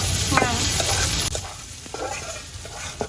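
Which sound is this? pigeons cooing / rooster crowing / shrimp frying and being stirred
shrimp frying and being stirred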